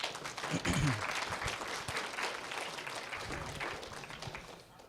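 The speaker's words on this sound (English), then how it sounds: "Can we give them a round of applause?" Steady round of audience applause at a Wyoming social justice panel event, dense clapping held at an even level for several seconds with no talk over it.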